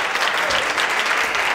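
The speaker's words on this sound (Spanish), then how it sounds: "No hacía falta que aplaudieran." A room of university students applauds a lecturer at the end of an economics course, loud, dense and sustained clapping from many hands that carries through with no let-up.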